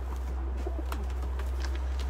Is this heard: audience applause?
no